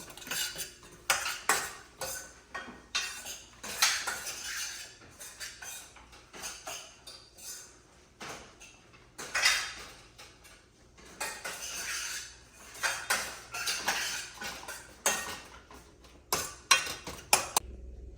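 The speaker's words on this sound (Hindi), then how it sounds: "अनियन भुन रहे हैं हमारे मसाले के साथ" Onions sautéing with turmeric and spices in a pan for an eggplant bharta, heard as irregular bursts of metal spoon scraping and clinking against the pan, close and fairly loud, with no talking.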